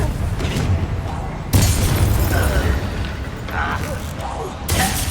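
Blasting spell explosions from Hogwarts Legacy: loud, broad bursts mixed with mechanical clatter, with a strong hit at about 1.5 s and another near the end, over continuous game noise.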